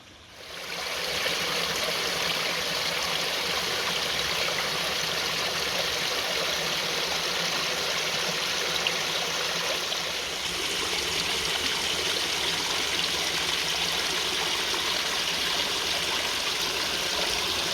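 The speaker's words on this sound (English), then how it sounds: "I might have just stumbled on a little waterfall." A small waterfall rushes in a steady, even wash of splashing water that carries on unbroken and fairly close, with no voices.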